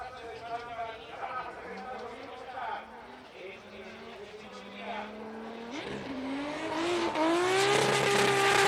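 A Nissan S14 Sylvia drift car revs hard at Fuji International Speedway during Formula Drift Japan qualifying, the engine climbing with squealing tires and growing louder toward the end, under a commentator's voice.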